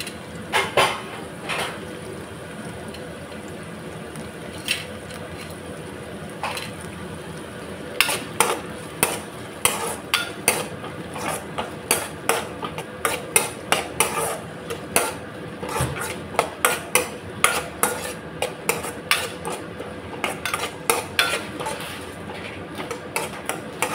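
Tomato and curry leaves frying in a pan for a coastal crab ghee roast, with a spoon clinking and scraping against the pan in frequent sharp taps over a low sizzling bed, close and steady throughout.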